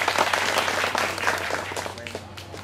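Crowd applause for a singer at an outdoor event on Song Tu Tay island in the Spratlys, dense clapping that starts strong and gradually thins and fades over a steady low hum.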